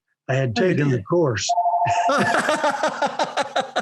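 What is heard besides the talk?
telephone ringing in the room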